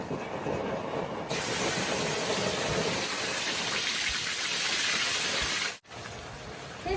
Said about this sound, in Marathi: आपण आता हे घालूया बनवलेली कांदा आणि टोमॅटोची प्युरी आहे